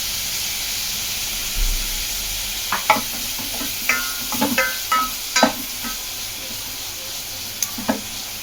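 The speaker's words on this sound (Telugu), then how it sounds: "ఉల్లిపాయ కొంచెం మెత్తపడే వరకు వేయించుకోండి" Chopped onions frying with a little salt in a pan: a constant soft sizzle and hiss, broken by several clattering stirs and scrapes of a spoon, close up and with no talking.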